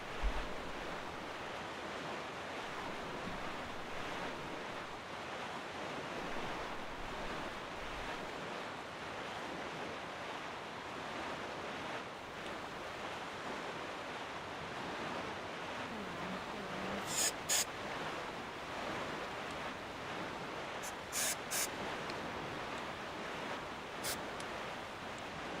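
Sailing the open ocean in The Legend of Zelda: The Wind Waker brings a steady, soft wash of waves and wind that carries on unbroken, with a few faint clicks near the end.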